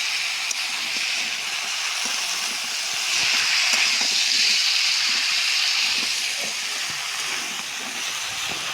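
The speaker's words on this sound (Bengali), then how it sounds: "এভাবে আমরা ধীরে ধীরে আগে মশলার সাথে আমরা কষে নেই" Spices frying in a pan while cooking with banana stem: a steady, close sizzling hiss that swells slightly in the middle and carries on without pause, with faint scattered crackles underneath.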